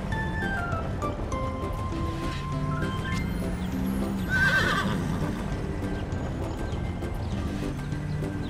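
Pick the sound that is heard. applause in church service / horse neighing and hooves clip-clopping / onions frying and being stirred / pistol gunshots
horse neighing and hooves clip-clopping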